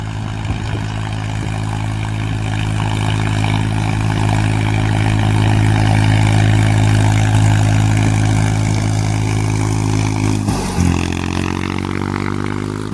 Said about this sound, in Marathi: बघा एवढ्या झाडामधून आपलं ट्रॅक्टर आणावं लागतं.